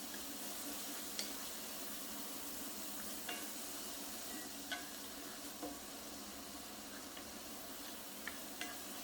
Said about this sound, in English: I'm going to let this go ahead and saute a little bit longer.